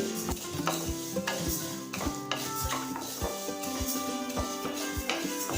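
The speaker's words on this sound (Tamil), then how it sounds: "கொள்ளு இப்போ நல்லா வறுத்தாச்சுங்க." Horse gram dry-roasting in a pan, stirred steadily with a spoon scraping and tapping the metal in a regular rhythm over a soft crackle, loud and close, with no voices.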